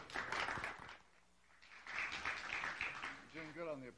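A seated forum audience at a Leadership New Jersey event claps for a speaker, scattered and fairly faint, with a voice talking over the applause near the end.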